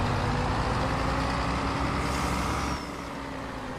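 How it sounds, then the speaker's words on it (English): Farming Simulator 22 modded bus in the video game: a loud, steady diesel engine drone with a compression-brake rumble that drops off abruptly near the end, leaving a quieter idle. "You gotta love that it's like a compression brake."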